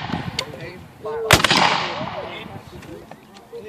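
Rifles fire in a ragged volley by file at a Civil War reenactment at Pea Ridge, one sharp loud crack followed by a rolling boom and scattered distant shots, with voices talking around it.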